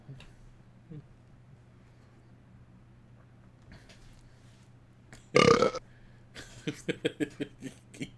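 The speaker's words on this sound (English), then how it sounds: "Burps." A loud, drawn-out burp from the Space Quest III computer game erupts midway through a quiet stretch, followed by a quick series of sharp clicks.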